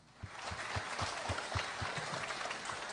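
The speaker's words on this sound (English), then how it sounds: "give yourself a round of applause" Fairly faint applause rises for the intermediate division participants at the Spelling Bee of Canada Championship, many hands clapping together with a soft, regular thumping pulse running through it.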